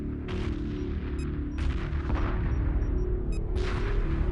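Space battle weapons fire in the Homeworld 2 Remastered strategy game, a dense continuous rumble of booms and gunfire with short bursts of high crackling blasts, layered under a game soundtrack.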